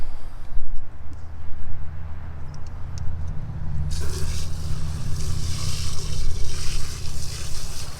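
Water rinses out a container from a garden subpod, a rushing splash that starts abruptly halfway through over a low steady rumble, fairly loud and close, with no talking.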